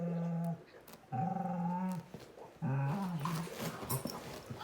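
Dogs and a puppy play and tussle over a set of keys, making bursts of whining, yips and low playful growls separated by short pauses.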